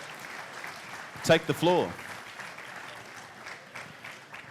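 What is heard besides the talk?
audience applause for 501st and Rebel Legion members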